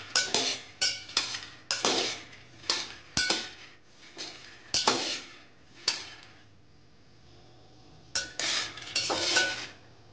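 Peanuts dry-roast in a pan on the stove for jaggery laddus, stirred with a spatula that clinks and scrapes against the metal in uneven bursts, close by, with a short quiet pause and no talking.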